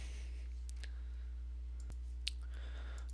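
A single sharp mouse click on a Close button in a software console, with a few other faint clicks over a low steady hum in a quiet room.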